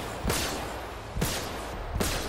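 Three sharp, zappy laser shots in the video game Freelancer fire at spaced intervals over a steady background hum, each a quick bright burst that decays fast.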